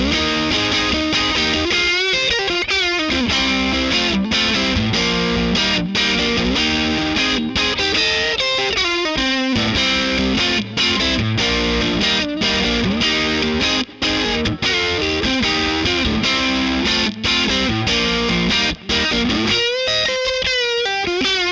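An electric guitar on its neck P90 pickup runs straight into a BluGuitar AMP1 set for low-gain classic rock drive with slightly scooped mids, strumming chords and riffs continuously and loudly, alone without talk.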